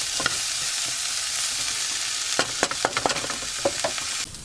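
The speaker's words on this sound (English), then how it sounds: "I hear the food sizzling in the background." Steady frying sizzle from food in a pan, with a few sharp clinks and scrapes of stirring toward the end; close and continuous, no voices. Sautéed Brussels sprouts are being made.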